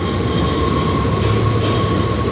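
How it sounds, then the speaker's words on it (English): A train stands at a station platform while travelling to Amsterdam: a steady, loud mechanical hum with a constant high whine runs throughout, close by and unbroken, with no voices. "So this is my train."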